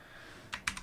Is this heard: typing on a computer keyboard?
yes